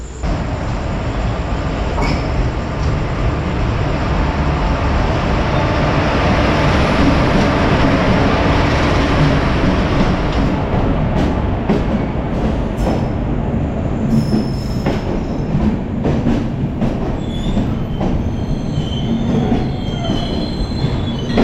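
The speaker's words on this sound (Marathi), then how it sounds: "फायनली गाडी आलेली आहे कोकण कन्या एक्सप्रेस" The Konkan Kanya Express passenger train rolls into a station, a loud rumble of wheels with high metallic squeals and clatter that gradually eases as it slows.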